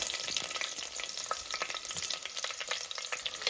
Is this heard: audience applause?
no